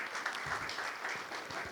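A conference audience claps together for under two seconds at a leadership event, a brief, moderately quiet patter of hands in a hall.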